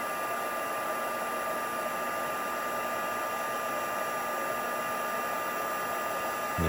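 A hair dryer blows steadily and close up, drying Brusho pigment paint on paper, with an even, unbroken hiss and whine throughout and a slight change right at the end.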